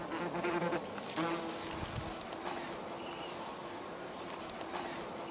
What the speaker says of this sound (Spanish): Estas avispas son de la especie chaqueta amarilla, y son peligrosas.